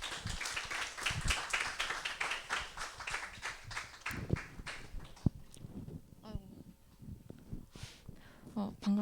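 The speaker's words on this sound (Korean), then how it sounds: "큰 박수 해주세요." Audience at a morning business seminar gives a dense round of clapping that gradually thins out to scattered claps, moderately loud in an indoor hall.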